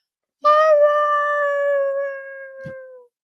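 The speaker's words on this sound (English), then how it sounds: "I don't know what they were howling at, but all of them were going," A dog lets out a loud, sustained howl that starts sharply and slowly glides lower as it fades over nearly three seconds, alone and close by, with a small thump near the end.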